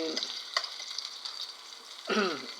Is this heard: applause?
no